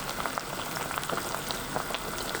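Pork kimchi stew bubbling steadily in a pot, a dense, continuous simmering crackle with scattered pops throughout, close and fairly quiet with no voices.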